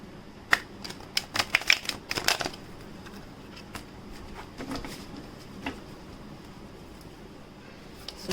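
Tarot cards are shuffled by hand in a quiet room, making a cluster of crisp riffling snaps and flutters early on, then sparser soft slides and taps.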